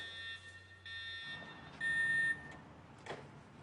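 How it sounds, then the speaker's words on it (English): Building evacuation alarm sounding in repeated electronic beeping tones, fairly faint and muffled as if heard from a distance indoors, with a few short pauses between bursts. "You should also be able to recognize the sound of your building's evacuation alarm"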